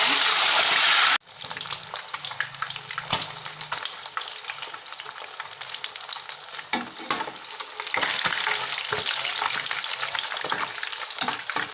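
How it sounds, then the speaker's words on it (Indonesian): Gourami fish frying in hot oil, a steady close crackling sizzle that runs throughout with occasional louder spits and pops. "Kita goreng ikannya."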